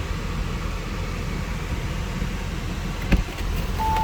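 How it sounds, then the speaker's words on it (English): Air conditioning blows inside a 2019 Tango Red Audi S5, a steady, fairly quiet broadband rush of airflow with a faint low hum beneath and one brief click near the end. "Oh, that AC."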